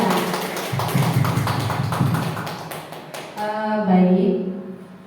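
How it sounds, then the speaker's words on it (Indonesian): A seminar audience applauds four teachers at a teacher orientation event in Surakarta, a dense patter of many hands clapping that thins out as a voice starts speaking over the tail end. "mari kita beri aplaus untuk keempat guru Bapak Ibu hebat kita."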